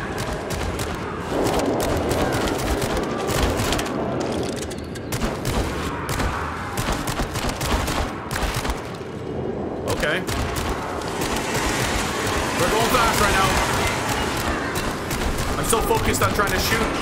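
Rapid gunfire in the VR video game Switchback, sustained bursts of shots and blasts layered with game music and effects, while a player talks and exclaims excitedly over the action.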